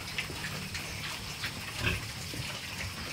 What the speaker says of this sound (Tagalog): maraming baboy guys